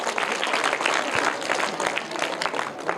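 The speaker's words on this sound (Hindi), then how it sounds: "तो इनके लिए जोरदार तालियां हो जाए।" Lively applause for prize winners at a children's quiz event, a crowd clapping in a continuous patter with no voices, moderately loud and steady for a few seconds.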